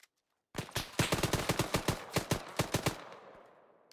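Rapid automatic gunfire in the video game Insurgency, a single sustained burst of about a dozen sharp evenly spaced shots, loud and close, ending in a fading echo with no talk over it.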